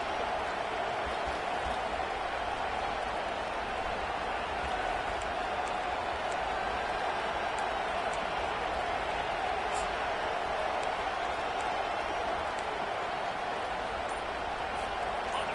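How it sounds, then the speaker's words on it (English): A steady, dense stadium crowd roar from a Madden football video game rumbles on unbroken at an even level, with a commentator's voice running over it throughout. "Listen to this crowd just shaking"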